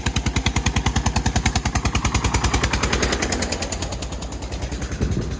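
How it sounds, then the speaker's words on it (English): A tractor engine, hauling a load of bricks, chugging close by in a rapid, heavy, regular thumping rhythm that eases slightly toward the end. "this tractor is carrying bricks"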